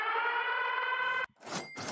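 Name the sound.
siren sound effect played on a livestream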